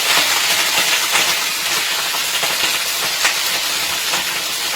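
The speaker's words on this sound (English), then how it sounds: "Got our Brussels sprouts here. Be careful, this might pop a little bit." Brussels sprouts sizzling and popping in a hot pan, a steady loud hiss with scattered crackles running throughout.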